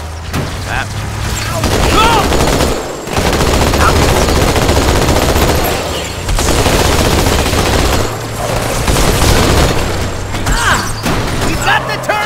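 Heavy turret gunfire in a Halo video game, sustained loud bursts of automatic fire with booms, broken by short pauses, with voices talking over it.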